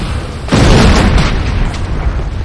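Building explosion as the GDI Tiberium Refinery is destroyed in the video game Command & Conquer: Renegade, a loud sudden boom that rolls into a sustained rumbling blast for about two seconds.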